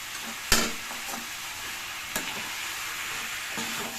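Chicken pieces sautéing in a pan with chilli powder, pepper, cumin and salt for chicken chukka, a steady close sizzle broken by a few sharp scrapes and clacks of stirring.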